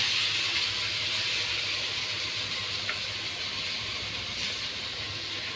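Ground masala paste poured onto tomatoes in a hot pan, a loud continuous broadband sizzle and hiss filling the whole stretch, close and steady, with no talk.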